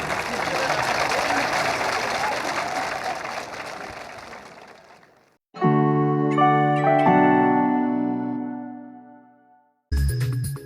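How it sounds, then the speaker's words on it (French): Audience applause for author Romain Puertolas, a steady loud clatter of clapping that fades out, followed by a bright chiming jingle and a brief burst at the end. "Vous pouvez applaudir Romain Puertolas en avant-première"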